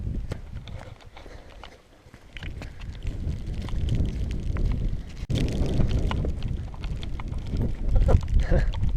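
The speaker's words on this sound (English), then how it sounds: "Wind's back now." Wind gusts buffet a hillside on the Moel Arthur ridge of the Clwydian mountain range, a loud, rumbling roar across the microphone that rises and falls irregularly and persists throughout.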